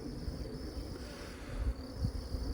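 Agitated honey bees from a package hive buzz in a steady, faint drone, with soft low thumps from frames being handled nearby.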